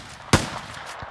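A single sharp, loud gunshot in a video game, covering fire in a multiplayer match, cracks close up and fades quickly over a low background hum, with a faint softer thump after it.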